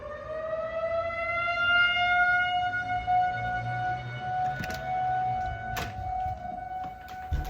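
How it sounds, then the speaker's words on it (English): A civil defense tornado siren wails steadily through a storm, its rising and falling tone drawn out over several seconds, loud and slightly distant, with brief knocks and outdoor noise underneath. "The tornado siren is going off."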